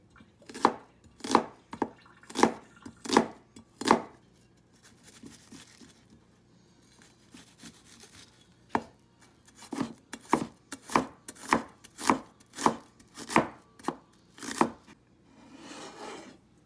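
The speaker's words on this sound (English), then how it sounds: "cut the onion." A knife chops onion on a cutting board in crisp, evenly spaced strikes, one run of about six, a pause with a few softer taps, then a second steady run of about ten, close and clear without talk.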